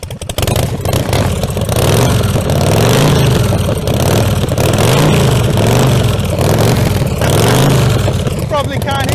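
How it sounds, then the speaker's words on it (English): A custom Harley-Davidson FL chopper with a 145 cubic inch engine fires up and idles loudly with a deep, lumpy throb, swelling through repeated revs close to the microphone. "And you'll see, and you'll hear, what this 145 cubic inch motor sounds like"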